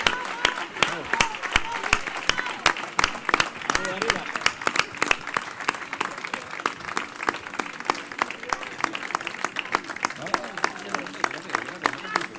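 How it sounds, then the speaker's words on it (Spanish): A large crowd applauds at an outdoor political rally in Lepe, dense continuous clapping that stays loud throughout, with a voice speaking over it. "que este aplauso va para vosotros"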